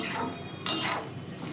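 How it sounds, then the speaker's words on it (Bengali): Fenugreek greens being stirred into a curry in a pan, with a sharp utensil scrape and clatter against the metal partway through, then softer scraping under quiet kitchen noise. "এবার এই তরকারিটার মধ্যে ভালো করে মেথি শাকটা মিশিয়ে নেব।"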